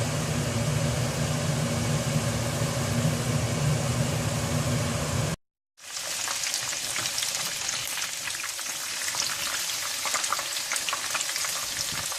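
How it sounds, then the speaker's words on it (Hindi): Chicken pieces fry in hot oil with a dense, steady crackling sizzle, cut off by a brief silence and then resuming as a brighter, thinner sputter, close and unaccompanied by any voice. "इसी तरह से आप बाकी सारा चिकन भी फ्राई कर लें।"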